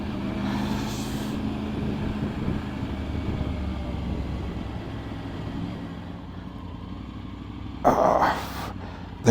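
Group of motorcycles riding on open roads toward an airfield, heard as a steady droning engine rumble mixed with wind noise, with a short louder burst near the end.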